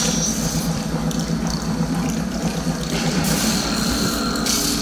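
Steady rushing water in the video game Portal Stories: Mel, a continuous broadband flow with no pauses, fairly loud and unaccompanied by talk.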